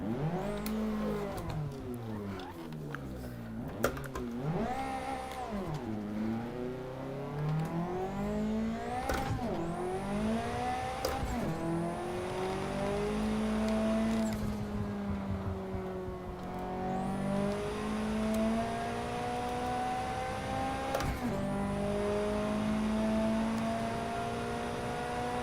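Racing car driven in Assetto Corsa, engine revving and shifting through gears with rising and falling pitch, steady and close, sustained throughout with no talk.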